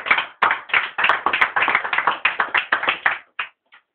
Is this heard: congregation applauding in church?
yes